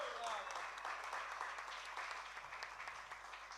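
A crowd claps steadily at an official book presentation, sustained, fairly distant hand applause with some voices mingled in, tapering slightly toward the end.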